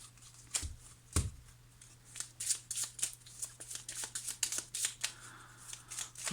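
Tarot cards are shuffled by hand close by, a rapid run of crisp riffles and flicks, with a steady low hum beneath.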